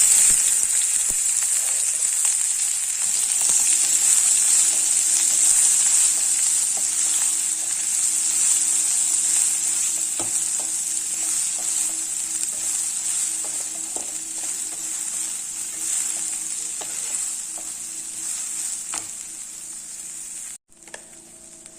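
Boiled chickpea sundal and asafoetida frying in oil in a pan, a steady close sizzle with occasional stirring scrapes that runs throughout.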